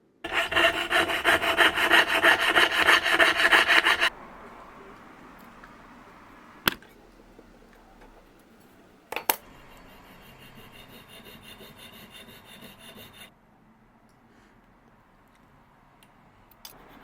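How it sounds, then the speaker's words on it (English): Hand filing of a hard drawn brass wire pin to a slender taper for a spring clock pendulum suspension, a dense rasping rub for about four seconds and then softer intermittent filing with a few sharp ticks, close and alone. "which I file to a slender taper, and then file another temporary pin for the hole that's going to support the pendulum"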